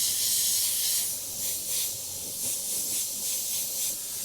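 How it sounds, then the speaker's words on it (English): An airbrush sprays paint onto a tree and moon landscape, producing a continuous close airy hiss that swells and eases slightly in gentle pulses. "letting my overspray naturally blend it back into the base colour"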